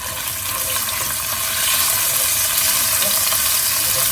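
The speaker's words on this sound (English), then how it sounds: "you can hear that it's splattering now" Ginger and garlic splattering in hot oil in a pan, a steady, dense crackling sizzle that holds at a constant level throughout with no voices.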